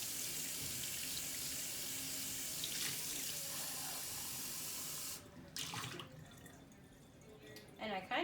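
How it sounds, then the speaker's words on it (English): A sink faucet runs at full flow for several seconds as washed dishes are rinsed. The water cuts off, then brief splashes and trickles follow as the faucet comes back on. "you turn your water on over here on the other side of the sink and you can rinse your item"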